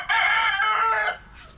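A rooster crows once, close and loud, a strained cock-a-doodle-doo lasting just over a second before fading to quiet farmyard background.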